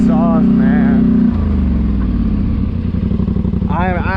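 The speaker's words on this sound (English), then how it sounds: "I'm just in love with that exhaust, man." A straight-piped 850 four-wheeler ATV exhaust barks loudly up close, with quick rising revs at the start and end around a rough, pulsing idle, and a voice speaking at times.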